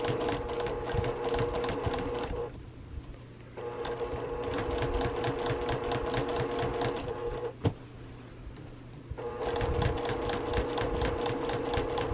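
A sewing machine stitching binding on a quilt runs in fast, loud, rhythmic bursts of needle clatter, pausing briefly twice before resuming the steady close mechanical whir.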